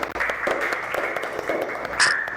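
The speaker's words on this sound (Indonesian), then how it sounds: "Tepuk tangan." Classroom applause from a group of pupils, a steady wash of clapping that carries on for a couple of seconds, with faint voices mixed in.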